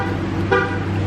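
Amid a steady outdoor engine rumble, a single short car horn toot from a key fob press sounds midway, clear and fairly close, in an airport parking lot.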